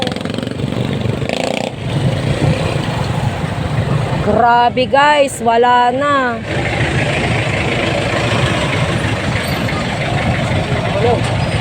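Heavy street traffic in Bagong Silang, Caloocan City, with motorcycles and trucks, a constant close rumble of idling and revving engines. A voice speaks over it briefly.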